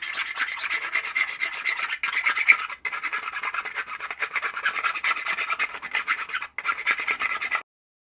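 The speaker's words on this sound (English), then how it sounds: "I've just gotten myself a little simple jeweler's file, and I go around the edges here on some of this stuff and just simply file away" A small jeweler's file rasps along the edges of a 3D-printed mask in steady, close back-and-forth strokes with brief pauses, quiet and alone without talk.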